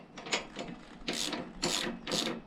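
Front wheel being worked loose from a minibike ahead of fitting new SUNF off-road tires: rubbing, rasping metal-and-rubber scrapes in a few broad bursts, close and moderately loud, with no talking.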